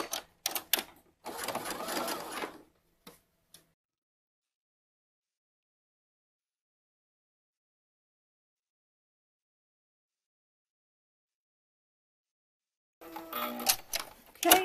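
A home sewing machine runs a basting stitch through layers of a swim top: a few short clattering runs near the start, a long silence, then another run at the end. No talk.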